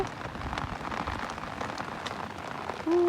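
Rain falls steadily on a surface, a constant patter of drops, with a brief tonal whine near the end.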